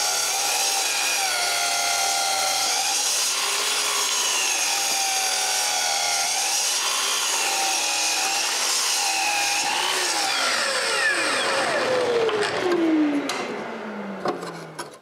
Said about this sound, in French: d'une traite, je les coupe les 12.